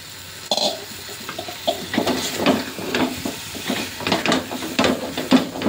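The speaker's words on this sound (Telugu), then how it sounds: "టమాటా ఇలా మగ్గించుకున్న తర్వాత ఇప్పుడు కూడా కాకరకాయలు వేయాలి." Bitter gourd pieces are added to a pan of softened tomatoes, bringing on uneven sizzling and hissing with stirring scrapes and bursts of steam, close and moderately loud, without talk.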